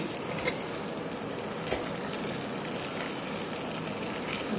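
Continuous sizzling hiss of sliced okra frying in a hot pressure cooker pan, steady and close with faint bursts of crackle, no voices.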